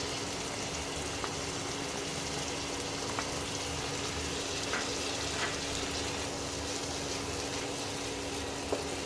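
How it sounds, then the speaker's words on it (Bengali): Ginger, garlic and green chilli paste frying in a pan, giving a steady, faint, hissing sizzle with occasional small pops, continuous and close, with no voices. "এবারে এগুলো একটু ভাজা ভাজা করে নিই।"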